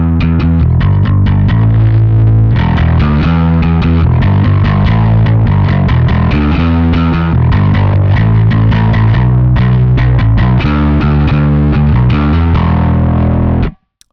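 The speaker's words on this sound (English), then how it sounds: "I'll play with the distortion control first" Bass guitar played through a Rat distortion pedal while the distortion control is adjusted, giving loud, thick, gritty sustained notes and riffs that ring continuously and then stop abruptly at the end.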